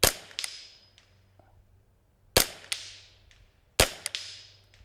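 An AR-style .22 LR rifle fires three sharp, loud shots spaced about two seconds apart outdoors, each crack followed by a brief ringing decay and a faint distant echo.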